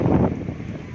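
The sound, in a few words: strong wind during bad weather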